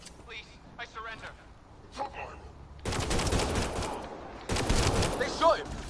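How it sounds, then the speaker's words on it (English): A firefight erupts in the sci-fi video game Mass Effect Andromeda, with brief voices and a few faint shots giving way to loud, sustained automatic gunfire bursts, with talking throughout. "They shot him!"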